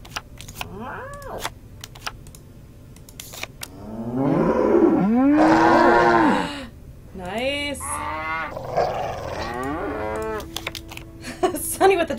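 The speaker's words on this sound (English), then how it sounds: "Sunny with a chance of mooing cows." Cows moo in the Nancy Drew: The Shattered Medallion video game, a few drawn-out, rising and falling calls that are loud in the middle, mixed with scattered clicks and a brief spoken word.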